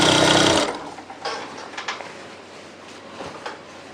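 A sewing machine stitches elastic into a pair of pants, its needle running in a loud, fast whirring burst for just over half a second before it stops, leaving soft handling noises and rustles of fabric.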